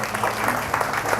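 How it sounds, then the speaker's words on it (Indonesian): Applause from an audience at a Hindu dharma talk in Sidoarjo, a dense steady wash of clapping that stays loud and even, with a faint murmur of voices underneath. "Silahkan nanti tepuk tangan dulu dong Setah Santika Dharma."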